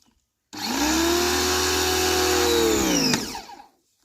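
A 2E HPW2015 mini pressure washer switches on and runs as a steady, loud motor whine for about two and a half seconds, its pitch sagging slightly before it cuts off and spins down.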